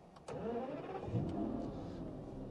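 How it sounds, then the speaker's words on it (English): An Aston Martin DB9 Volante V12 engine cranks and fires up with a sudden deep roar, then settles into a loud, rumbling idle with a slight rev. "you hear that V12 bellow come in, and wow, doesn't that sound phenomenal?"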